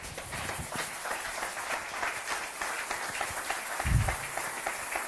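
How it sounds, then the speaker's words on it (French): A church congregation applauds the Lord during a deliverance sermon, a steady dense wash of clapping hands filling the room at moderate loudness, with a single low thump partway through and no clear speech. "Applaudissez le Seigneur"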